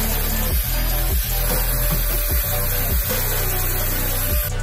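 A power drill whirs steadily at close range, with several short bursts and pauses as it bores holes into a clamped wooden workpiece.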